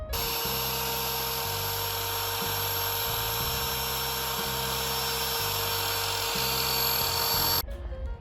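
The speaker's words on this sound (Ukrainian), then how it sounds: "Ще однією із задач, які я роблю за допомогою цього фрезера, це викатування будь-яких пазів" A Pro Craft POB1700 handheld router whines at a high, steady pitch while cutting grooves in wood, a rhythmic low hum shifting as it cuts, loud and close, then cuts off.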